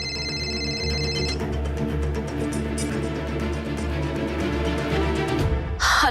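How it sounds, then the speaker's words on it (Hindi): A telephone rings in an indoor scene from the Hindi television drama Nazar, a steady repeated electronic ring sitting over background music until it cuts off near the end, with no talk. "कोयल दी का फोन"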